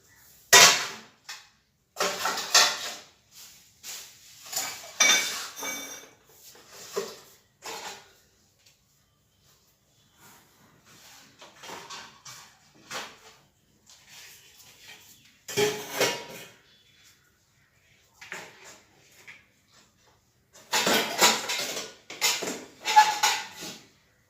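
Washed pots, dishes and cutlery are stacked and put away in a home kitchen, giving scattered metallic clinks, clatters and knocks in uneven bursts with quiet gaps, fairly close and moderately loud.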